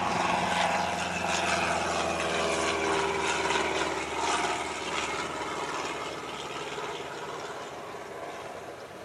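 The Blue Moth, a vintage propeller biplane, flies over Old Warden Aerodrome at an air show, its engine droning steadily overhead and fading slightly as it passes, with no voices.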